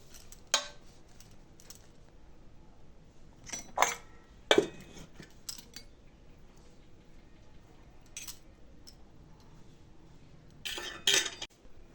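A spoon scrapes and clinks against a plate as rice and jaggery mango pickle are served, giving a few scattered, close metallic taps and scrapes in a quiet room.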